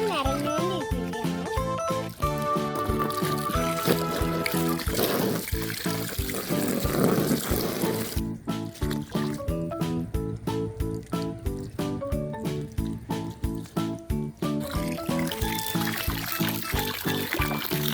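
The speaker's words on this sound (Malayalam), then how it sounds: "എന്റെ ടാങ്കിൽ വെള്ളം നിറഞ്ഞുകൊണ്ടിരിക്കുകയാണ്." Water from a hose pours into a homemade fish tank, giving bright trickling and splashing with tinkling, rhythmic tones, filling steadily at close range with no talk.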